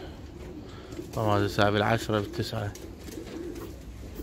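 Racing pigeons coo in a loft in several close, rolling bursts that sit under and between a man's speech.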